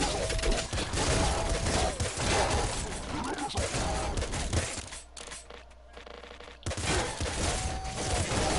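Rapid automatic crossbow bolts fire in Nuclear Throne, a dense stream of sharp mechanical shots with a brief lull midway before firing resumes.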